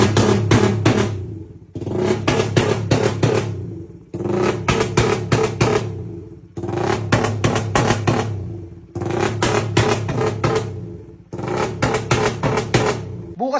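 After a new battery is fitted, the vehicle called Likse is cranked in repeated loud bursts of about two seconds each, with short pauses between the attempts.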